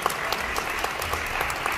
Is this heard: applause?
yes